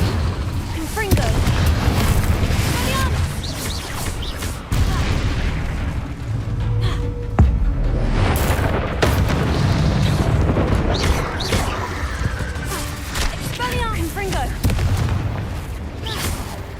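Repeated fiery spell blasts from Confringo and Incendio in Hogwarts Legacy: a dense, continuous barrage of booming explosions and crackling bursts, loud and close, with a voice speaking intermittently over the din.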